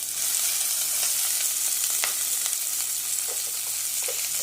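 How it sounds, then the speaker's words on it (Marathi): Mustard seeds, cumin, onion and chili fry in plenty of hot oil for horse gram masala rice, making a steady, dense sizzle with small pops and a few stirring scrapes close by, and nobody speaks. "मोहरी, जिरे, कांदाबरोबर मिरची पण घालायची."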